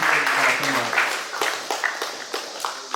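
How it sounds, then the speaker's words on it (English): Audience applause and clapping at a live end-of-summer motivational event, moderately loud and fading over a few seconds, with someone speaking over it. "So clap it up for Foster for having me out here, for doing"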